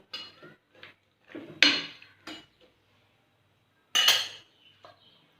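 A metal lid clanks onto a cooking pot of village-style brinjal kadaisal, two sharp clinks among lighter scraping and utensil knocks, close and moderately loud with quiet gaps between.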